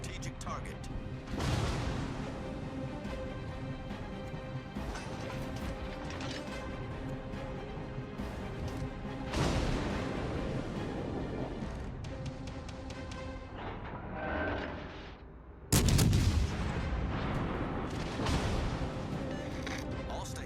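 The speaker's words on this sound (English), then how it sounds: "All stations concentrate fire on the target." Battleship artillery fire booms through a naval video game in dense, heavy blasts and mechanical rumbles, with one sharp loud crash near the end, while game voices call out over the action.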